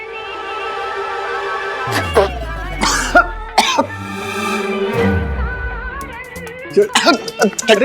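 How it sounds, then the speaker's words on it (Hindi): Several loud coughing fits up close, harsh bursts clustered in quick groups with short pauses between them. "ये फिर से खांसने लग गया।"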